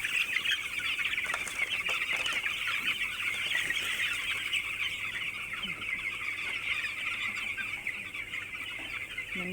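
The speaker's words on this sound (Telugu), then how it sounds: "ఇలా ఉంటాయి అన్నమాట కోళ్ళు." A flock of country chickens clucks steadily and continuously at close to moderate range, the calls overlapping throughout with no speech.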